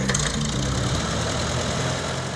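A 1948 Farmall Super C tractor engine runs steadily nearby, giving a loud, continuous, knocking idle with a constant chug and no voices over it.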